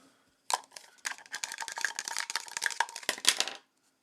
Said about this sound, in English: I'm rolling the dice.